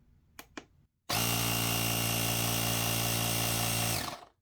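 A GOOLOO A3 jump starter's built-in air compressor switches on after two quick clicks and runs as a loud, steady mechanical buzz for about three seconds up close, then winds down.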